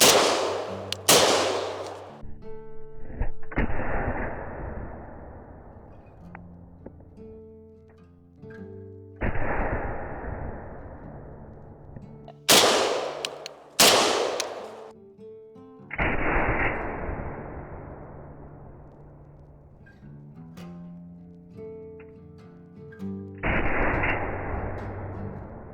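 A double-barrel shotgun firing double-aught buckshot rounds outdoors: several loud, sharp blasts, some in quick pairs, each followed by a long rolling echo that fades over a few seconds, with no talking.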